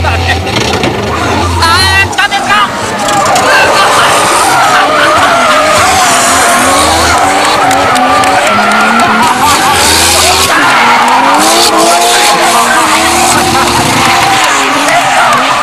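A Toyota JZX81 drift car at a D1 event screams at full throttle, its engine bouncing off the rev limiter amid tire squeal and skidding, loud and continuous, with crowd noise underneath.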